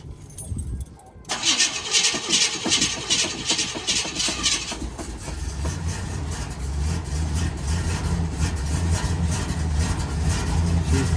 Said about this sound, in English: gotta give it a lot of gas to get her running. Fire right up.